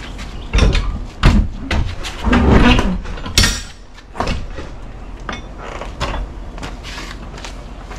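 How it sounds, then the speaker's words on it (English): Heavy doors of a Nyle L200 Pro dehumidification lumber kiln being opened, several loud bangs, clunks and scraping rattles close by in bursts over a few seconds, fading to quieter handling noises. "let's open up the doors and see what we're working with"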